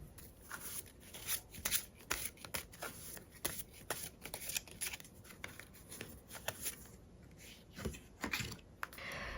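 Tarot cards handled and shuffled, a run of soft, quick papery riffles and flicks close by, irregular bursts with short pauses, no voice over them.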